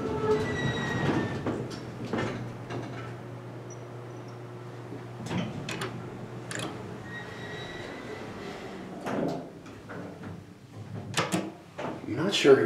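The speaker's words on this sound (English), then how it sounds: "Very creaky for a brand new install." Creaky, brand-new hydraulic elevator car moving at the Westminster Branch Library in Maryland, a low steady hum with repeated creaks, squeals and knocks, someone speaking over it.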